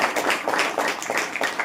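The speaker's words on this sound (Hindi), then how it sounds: "ताली बजाकर परमेश्वर को" A church congregation claps their hands together in praise at a Saturday prayer meeting, a steady, fairly loud crowd patter of many hands in even rhythm.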